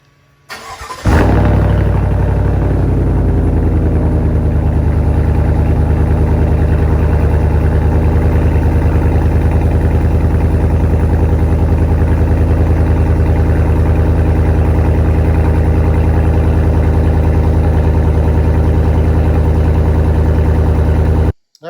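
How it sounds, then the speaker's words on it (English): A 2021 Chevrolet Silverado Trail Boss engine cranks and fires on a cold start with the muffler deleted, then settles into a loud, deep, raspy idle that rumbles steadily for about twenty seconds. "that was the before and after on a cold start with a muffler delete"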